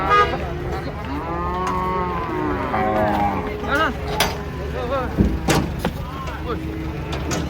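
A cow being unloaded from a wobbling truck at a market, giving several drawn-out moos close by, with shouting people, thuds and knocks from the truck around it.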